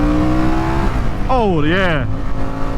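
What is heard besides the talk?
Harley-Davidson Sportster S motorcycle accelerating through a corner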